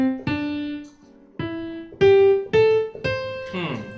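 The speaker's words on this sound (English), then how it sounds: "So that is the pentatonic scale." Piano notes climbing a D pentatonic scale, one clear key at a time with ringing decay, played slowly and evenly, close and moderately loud.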